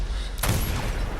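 A single sharp gunshot cracks during target practice in Dishonored, loud and close, followed by a brief fading tail over a steady game background.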